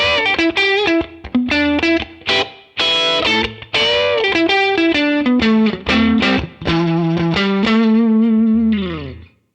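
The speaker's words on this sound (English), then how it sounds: "Switch it down for that more twangy single." A bright, twangy 1986 PRS Custom electric guitar on a single-coil setting plays chords and quick single-note licks up close, ending on a sustained bent note that fades out.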